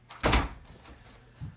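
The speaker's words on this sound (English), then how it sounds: "Close the door, please." A door swings shut with a solid thud in a house, one loud close near the listener followed by a softer knock a moment later, with no talking.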